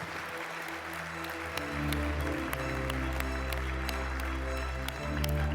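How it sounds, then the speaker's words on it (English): An audience at the FIM gala ceremony in Monte-Carlo applauds steadily, a dense continuous clapping from a large hall crowd that swells slightly midway, with music or a low hum underneath. "Give them a round of applause, please."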